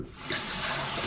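Water pours steadily into a container in a kitchen, a continuous close splashing rush lasting about a second with no talk.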